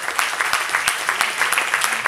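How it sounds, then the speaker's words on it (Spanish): An audience applauds warmly, a steady patter of many hands clapping close and continuous for a couple of seconds. "este aplauso va para todos vosotras y vosotros"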